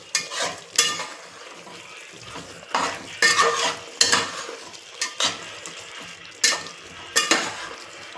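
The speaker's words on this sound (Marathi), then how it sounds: "आता चांगलं हलवून घ्यायचं." Chicken biryani is stirred in a pot: a spoon scrapes and clatters against the metal in a series of loud, close strokes over a faint sizzle.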